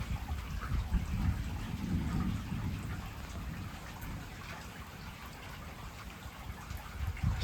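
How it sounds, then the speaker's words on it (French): Heavy rain pours steadily during a strong thunderstorm in Corrèze, with low rumbling thunder rolling beneath the dense hiss of rainfall, close and continuous with no voices. "Voilà, fort orage. Avec une activité électrique assez importante."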